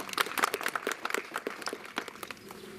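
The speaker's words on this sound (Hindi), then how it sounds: "एक बार जोरदार तालियां बजा दीजिए।" Audience applause at a construction workers' welfare board awareness camp in Chamba, Himachal Pradesh: a crowd's steady clapping, fairly close, easing off slightly toward the end.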